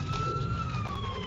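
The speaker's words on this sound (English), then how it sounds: "I'm sorry if you can hear the TV in the background with the sirens." Police sirens playing from a TV in the background of a room, a faint wailing tone that holds steady behind other quiet noise.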